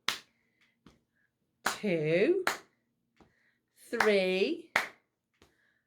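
Sharp hand claps fall in spaced pairs and singles during a children's counting lesson, crisp and close, with a voice counting aloud between them.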